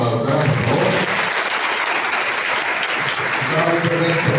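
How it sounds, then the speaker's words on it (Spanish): A conference audience gives a loud, dense round of applause for a doctor after a talk on human rights and disability, sustained and steady from start to finish. "un fuerte aplauso para la doctora, por favor"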